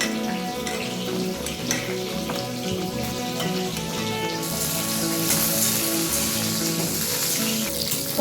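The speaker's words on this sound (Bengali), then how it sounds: "পটলটা হালকা করে ভাজা হয়ে গেছে।" Pointed gourd frying in oil in a home kitchen pan gives a continuous soft sizzle and crackle, steady and moderately quiet, with no voices.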